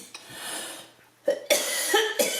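A few sharp, close coughs in quick succession, set off by dust from crushing dried homegrown jalapeno peppers by hand.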